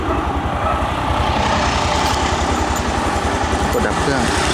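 A new Honda MSX motorcycle, started by remote, idles close by with a steady, rapid low engine throb that holds even and loud throughout.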